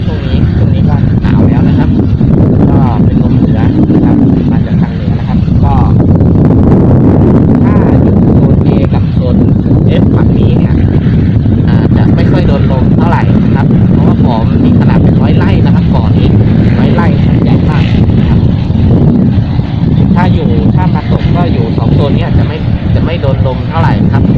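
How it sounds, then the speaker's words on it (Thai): Strong, cold north wind blasts steadily across a microphone at a large fishing pond, a loud continuous low roar and buffeting throughout. "ลมนี่แรงจริง ๆ นะครับ เป็นลมเหนือด้วยหนาวด้วยนะครับ"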